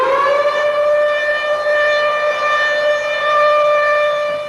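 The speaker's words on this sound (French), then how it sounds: "Les sirènes retentissent" A civil defense siren wails continuously during Yom Kippur 1973, a loud steady tone holding its pitch throughout with no voices over it.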